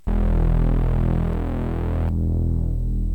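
A thick, loud Reese bass synth drone with unison voices sustains with a wobbling, phasing texture, its bright top cutting off partway as the filter closes.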